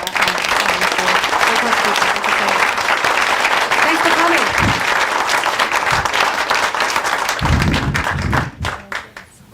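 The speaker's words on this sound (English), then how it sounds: "one last huge round of applause for Deng," Loud, dense audience applause fills a speaker-series event about former refugees, sustained for several seconds before tapering off, with someone briefly speaking near the end.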